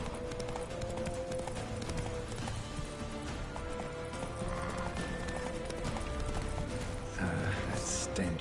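Roach, a horse in The Witcher 3, gallops with a constant, rhythmic clip-clop of hooves that runs unbroken throughout, backed by a soft ambient bed of game sound.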